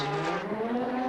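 A racing car on the 1990 Bathurst 1000 circuit slides sideways out of the pits, its engine note rising and falling with a strained, wavering tone as the tyres scrub.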